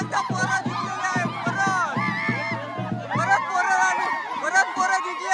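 Boys cheering and shouting together after winning a tug of war at a traditional Konkan Holi (Shimga) festival, a lively crowd roar of overlapping voices with rhythmic chant-like bursts, loud and continuous throughout.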